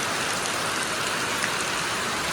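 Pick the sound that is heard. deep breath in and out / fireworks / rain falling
rain falling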